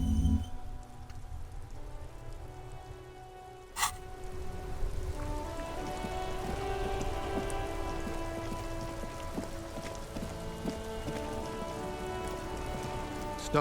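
Steady rain ambience in the video game Disco Elysium The Final Cut, a dense continuous patter of drops on surfaces with a faint tonal music bed underneath and a brief sharp accent near four seconds.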